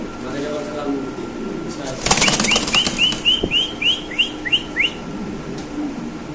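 King pigeons flap their wings in a sudden loud burst, followed by a run of short, evenly spaced whistling chirps, with muffled voices murmuring in the background.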